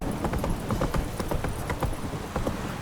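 Horse hooves pounding in a fast gallop in The Witcher 3, a loud continuous clatter of closely spaced beats, near and steady throughout.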